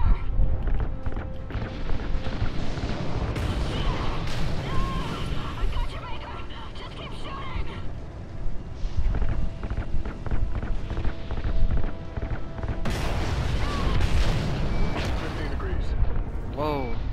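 RCS thrusters fire in Call of Duty: Ghosts, a steady roaring rush with crackling bursts that runs throughout, mixed with game dialogue and people talking.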